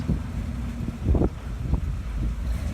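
A Kubota utility vehicle drives past outdoors with a fairly loud, continuous engine drone that rises and falls, mixed with wind buffeting on the microphone.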